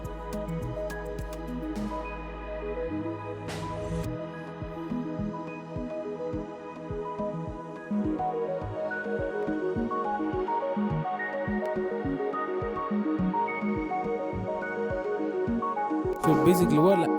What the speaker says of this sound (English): we have an arpeggio that was also playing